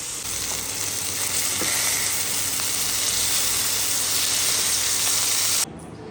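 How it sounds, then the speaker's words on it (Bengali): Fish fries in hot oil with a loud, continuous, crackling sizzle that holds steady for several seconds and then drops away abruptly at the end. "এদিকে মাছটা ভাজতে দিয়ে দিয়েছি"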